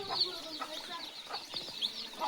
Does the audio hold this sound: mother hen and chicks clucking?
yes